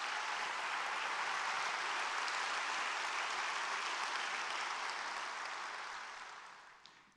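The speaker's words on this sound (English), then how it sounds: "Let's give them a round of applause for that." An audience claps for several seconds at a Long Beach State of the City address, a dense, even wash of applause that holds steady and then tapers away toward the end.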